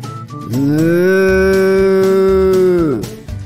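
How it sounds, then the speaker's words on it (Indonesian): A single long, loud cow moo, steady and drawn out for a few seconds before trailing off, close and clear. "Seperti itulah suara sapi."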